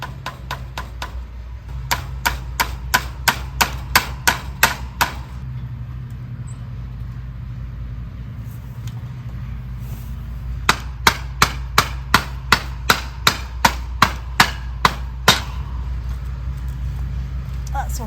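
A small hammer taps tiny nails into a wooden frame in two bursts of rapid, sharp, evenly spaced knocks, about a dozen each, separated by a quieter pause over a steady low background hum.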